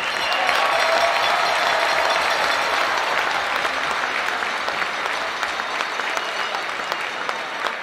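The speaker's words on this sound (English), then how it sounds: "let's give our inductees a great big hand" A crowd gives steady applause for Hall of Fame inductees in a hockey arena, dense and continuous, slowly easing off.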